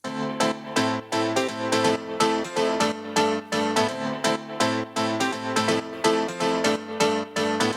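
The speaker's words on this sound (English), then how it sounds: "we're making house music, so we want that sidechain pumping effect" Sustained house-style piano chords with a sidechain volume-shaping effect that swell and duck in a steady rhythmic pump, loud and continuous with no voices.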